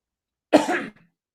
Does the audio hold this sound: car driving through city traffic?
no